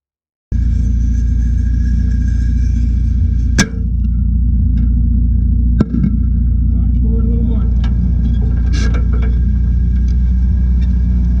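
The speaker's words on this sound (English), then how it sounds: "It lobs airburst grenades at the German defenses." An airsoft fighting vehicle at a WWII Seelow Heights battle lobs airburst grenades: two sharp cracks punch through a constant low engine rumble, with scattered faint clicks and knocks near the end.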